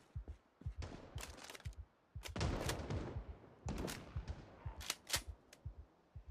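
Rapid video-game gunfire, suppressing shots sprayed in all directions: dense bursts of sharp cracks and automatic fire in several clusters, moderately loud, with no talk over them.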